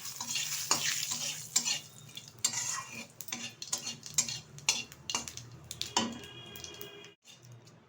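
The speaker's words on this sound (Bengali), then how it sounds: "এর মধ্যে দিয়ে দিচ্ছি একটা তেজপাতা, কিছুটা গোটা জিরে। এখন ভালোভাবে ভেজে নেব।" Bay leaf and whole cumin frying in a small amount of oil in a pan while a fish curry with potatoes is being made, giving a close, soft sizzle broken by repeated clinks and scrapes of a utensil stirring against the pan.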